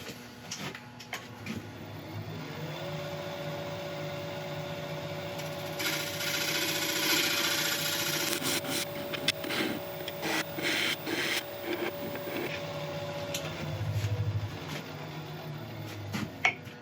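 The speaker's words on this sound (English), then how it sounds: "I'm just going to go in the gouge and just tidy up these little bits of tear out here" A wood lathe spins a sequoia redwood piece with a steady tonal hum while a gouge tidies tear-out, giving scraping, rasping cuts in irregular bursts that swell and fade over about seventeen seconds, with no talking.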